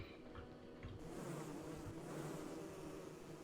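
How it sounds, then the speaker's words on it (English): A swarm of bees drones steadily in a video game, a continuous close buzzing at low level with no talking. "Bees! Not the bees!"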